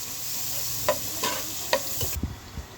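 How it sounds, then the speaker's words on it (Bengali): Onions frying in a pan as a utensil stirs them, with several distinct scrapes and clacks against the pan over a constant sizzling hiss, close by and without speech. "পেঁয়াজটা নেড়ে দেবো"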